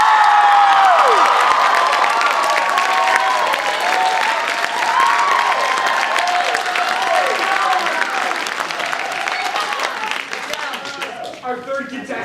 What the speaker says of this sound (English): so now the applause for our second contestant